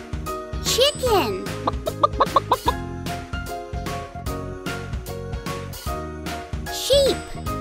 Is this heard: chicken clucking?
yes